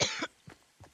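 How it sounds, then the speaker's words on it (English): A person coughs in a video game session, a short burst of harsh coughs followed by two fainter throaty coughs, close and alone. "Why am I coughing more?"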